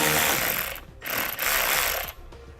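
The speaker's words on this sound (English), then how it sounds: "So we'll grab a 10mm socket and remove it." A 10mm socket on a ratchet removes a bolt from the fender area of a 2018 Jeep Grand Cherokee, giving loud, close ratcheting clicks in two quick bursts.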